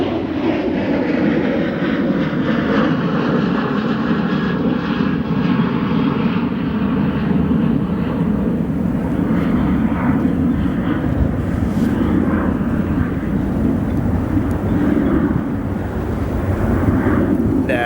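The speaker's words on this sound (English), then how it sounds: "Airbus A380, the world's largest aircraft right now." An Airbus A380 at O'Hare International Airport at night gives a steady, loud jet engine roar with broad rumble that holds throughout, with some wind buffeting on the microphone.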